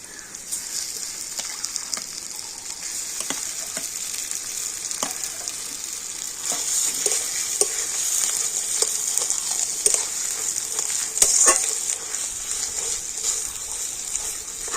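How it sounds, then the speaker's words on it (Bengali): Boiled, hand-mashed potatoes go into an oiled frying pan and are stirred, giving a close, steady sizzle with repeated soft scraping and clinking of the spatula against the pan. "তো সেই সিদ্ধ করা আলুটা এখন আমি দিয়ে দিচ্ছি"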